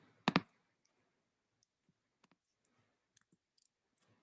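Typing on a computer keyboard: one louder double clack at the start, then sparse, faint, scattered key clicks in a quiet room.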